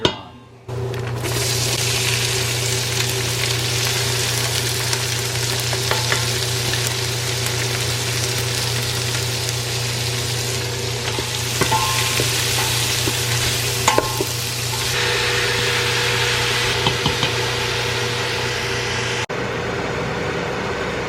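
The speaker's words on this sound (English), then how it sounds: "I'm going to start cooking the vegetables and the meat and the spices together" Vegetables, meat and spices fry together in a pan with a continuous close hiss over a steady low hum, with occasional light scrapes and taps.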